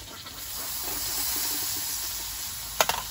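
Potatoes fry in hot oil as chopped onion and green chili go into the pan, giving a steady close sizzle and hiss, with a brief clatter of stirring near the end.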